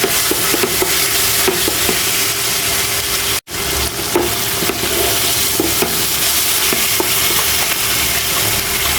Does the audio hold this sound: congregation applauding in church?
no